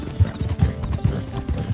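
Horses in Red Dead Online trot through a creek with rhythmic clip-clop hoofbeats, about four clear thuds over a low, busy background, moderately loud and close.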